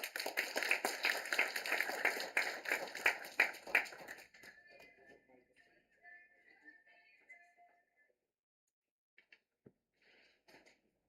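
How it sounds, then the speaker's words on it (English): An audience at a Department of Mechanical Engineering gathering claps to welcome the dean, a fairly faint, brisk patter of many hands for about four seconds that thins to scattered claps and then near silence. "Please welcome Ma'am with a big round of applause"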